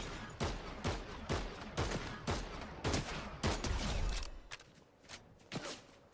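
Rapid bursts of gunfire in a Fortnite match, sharp repeated shots in quick succession over about six seconds, loud and close, with no talking.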